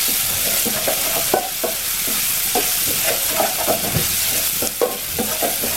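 Onions and garlic frying in a pot for an easy Nigerian weight-loss meal, a steady loud sizzle with the regular scrape and knock of a spoon stirring through it.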